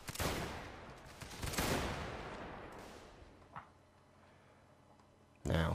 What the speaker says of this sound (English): You can see these guys firing from back of the horsey.